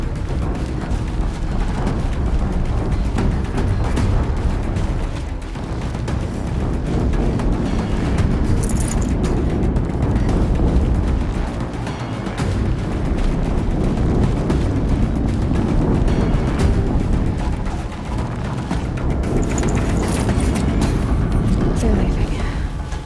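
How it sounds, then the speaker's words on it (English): Loud, continuous rumbling roar of explosions in the video game Horizon Zero Dawn, with heavy low-end booms rolling through dense game sound and occasional brighter bursts, sustained for the whole stretch. "An explosion."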